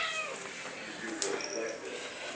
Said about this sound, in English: Bear with me with my cat. She's hungry.